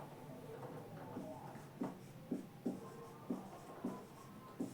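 Chalk or marker writes on a classroom board during a class 12 physics lesson, a series of close, regular taps and short strokes, fairly faint, with no talking over them.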